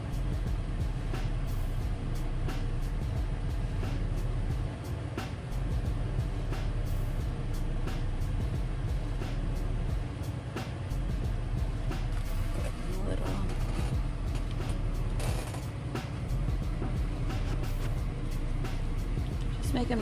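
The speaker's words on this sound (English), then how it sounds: "There's always traffic here." Steady road traffic on a commute, a continuous low rumble of cars and larger vehicles passing from inside a moving vehicle, with a person talking over it throughout.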